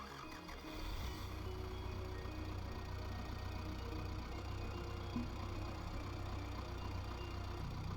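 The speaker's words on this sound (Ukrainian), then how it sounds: "Зараз ми трошки прогріємо тракторця, заведемо його." A tractor engine in Farming Simulator 22 turns over and settles into a steady low idle while warming up, a continuous rumbling drone that holds unchanged to the end.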